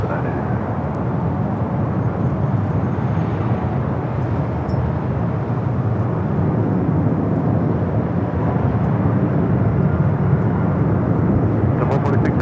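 A Delta airliner rolls for takeoff on runway 24 left at Los Angeles International Airport, a broad, steady jet engine roar filling the scene at constant loudness with a faint radio voice underneath.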